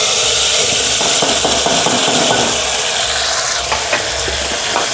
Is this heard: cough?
no